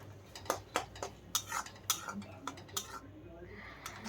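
A spoon scrapes and knocks in a pan as salt, turmeric and Kashmiri chilli powder with tomato are stirred and fried for mutton curry over low flame, giving a series of sharp, irregular metallic clicks, close and fairly quiet.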